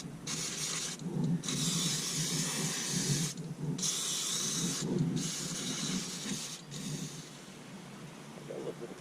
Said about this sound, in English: I'm using throttle body cleaner to clean it off